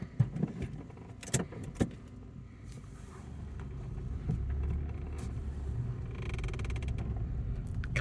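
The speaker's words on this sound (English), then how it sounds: "Start her up. Starts up on a button." A Ford car with push-button start turns over and settles into a low, steady idle rumble, preceded by a few short clicks and clunks near the start.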